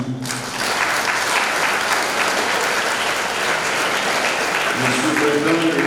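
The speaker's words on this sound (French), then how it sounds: "On applaudit." Loud, continuous applause from a crowd at a Saint Michael the Archangel feast celebration in Fontamara, Port-au-Prince, filling the whole stretch with some voices mixed into the clapping.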